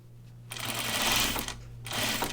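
A sewing machine stitches a shirt dress in two short, close bursts of steady mechanical whirring separated by a brief pause, with no talking.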